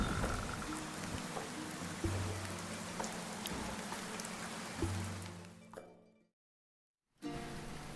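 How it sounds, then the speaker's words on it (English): Storm in the video game Dead in Vinland: steady, dense rain patter with faint croaks and clinks mixed in, cutting to total silence for about a second before the rain returns. "And wow, and it's a storm, okay."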